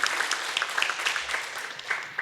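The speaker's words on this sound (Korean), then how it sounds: "우리 하나님 앞에 영광의 박수 한번 하시죠" A church congregation at a Sunday worship service claps together in steady, dense applause, a continuous wash of many hands close by with no talking over it.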